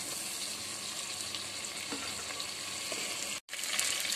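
Masala for mutton paya sizzles and fries steadily in oil in a pot, a close, continuous crackling hiss with faint stirring, briefly cut off near the end and then resuming, with no talk.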